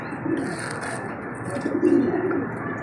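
Pigeons coo softly in repeated low throaty phrases near a loft at dusk, with faint chirps in the background and no talking over them.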